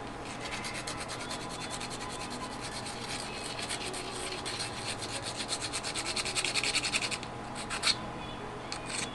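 A hand file scraping dentures, a quiet continuous rasping rub that grows into rapid rhythmic strokes near the end, close by with no talking.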